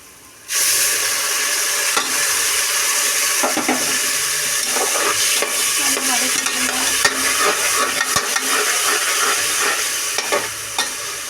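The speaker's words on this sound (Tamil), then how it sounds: "கோல்டன் ப்ரௌன் கலர் வரதுக்கும் வதக்கி விடுங்க" Golden-brown onions sizzle and crackle steadily in a hot pan for tomato rice, with scraping stirs and a few sharper clatters throughout; close and fairly loud, no talk.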